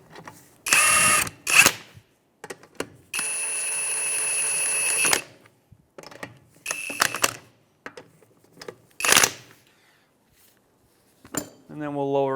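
Lug nuts on the rear wheel of a 2003-2011 Honda Element being snugged with a power tool, several separate whirring bursts of varying length with metallic clinks between them, close and clear.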